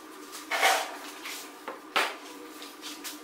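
Fired clay bowls from a first bisque firing are handled, giving two clear clinking knocks with a few lighter taps and scrapes between them, close by and with no talking.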